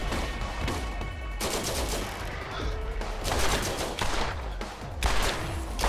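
Gunfire in the Borderlands video game as an enemy is shot repeatedly, with loud rapid bursts of shots in quick succession and short gaps between volleys.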